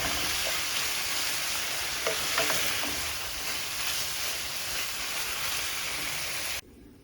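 Bacon pieces frying in a pan for fried rice, a steady, dense sizzle and crackle close up, with a few light stirring touches, ending abruptly.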